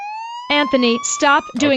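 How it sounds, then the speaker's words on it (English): A police siren sound effect plays in short bursts beneath a person speaking, its rising tone running alongside the talk. "This is a police siren."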